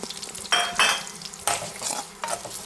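Roughly chopped onion frying in a little oil in a pan for paneer butter masala gives loud bursts of sizzle as it is stirred, with a spatula scraping close up and no talk.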